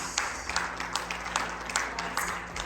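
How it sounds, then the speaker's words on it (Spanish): A church congregation applauds during an evening service, a steady wash of many hands clapping at moderate distance with no speech over it. "puede darle un aplauso a nuestro Dios en esta hermosa noche"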